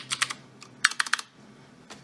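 Keys clack on a QF XT keyboard with a worn, sometimes sticking key, pressed in two quick clusters of sharp close taps followed by a single later keystroke, alone in a quiet room.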